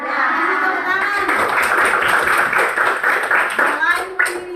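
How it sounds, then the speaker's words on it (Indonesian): Schoolchildren in a classroom clap in quick rhythmic bursts while children's voices and a teacher's voice run over the clapping throughout. "Ya, kasih tepuk tangan."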